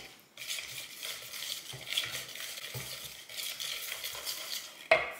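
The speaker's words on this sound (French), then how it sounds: "Je viens ensuite ajouter l'extrait de vanille. Donc j'ajoute à peu près une cuillère à soupe. Et je mélange." Pancake batter stirred with vanilla extract in a bowl, a steady scraping and swishing of utensil against the bowl, with a sharper clink near the end.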